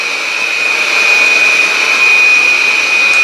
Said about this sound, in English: increase the vacuum speed to full